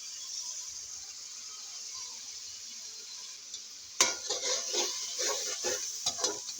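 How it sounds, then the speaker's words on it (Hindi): Spices and chili frying in a pot for chicken pulao: a faint hiss for four seconds, then louder, close sizzling and crackling with scraping stirs. "मसालों की भी अच्छी तरह से हम बुनाई कर लेंगे"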